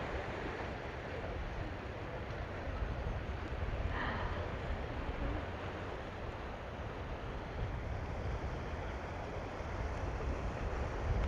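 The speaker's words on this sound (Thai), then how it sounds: "ตัวทางเดินอะมันยื่นมาหาทะเลแบบนี้ได้ยินเสียงคลื่นชัดเลย" Sea waves washing steadily against a seaside walkway in Busan, a faint, continuous surf roar with no clear breaks and no voices.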